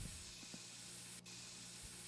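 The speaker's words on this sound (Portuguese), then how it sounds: "tem que usar muito mosquito spray nesse jogo" Mosquito spray in My Summer Car gives a continuous close hiss for about two seconds with one brief break.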